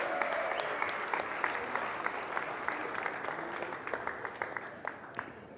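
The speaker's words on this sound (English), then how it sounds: "Let's give Fred a round of applause" An audience applauding a raffle winner at a winter speaker series event, steady crowd clapping with scattered sharp claps that gradually thin out toward the end.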